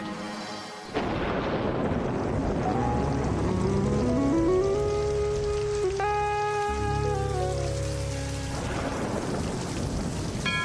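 Heavy rain pours steadily with a deep rumble of thunder, while a sustained rising musical tone plays over the downpour.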